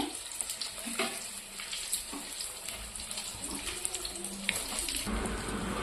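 Capsicum bajji, battered bell pepper fritters, frying in hot oil with a steady close crackling sizzle and scattered pops throughout, no voices.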